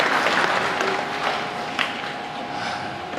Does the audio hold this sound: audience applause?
yes